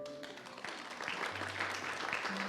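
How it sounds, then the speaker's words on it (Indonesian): An audience at a church service breaks into applause, a faint, scattered clapping that swells somewhat after the first second and carries on to the end. "Anda tepuk tangan"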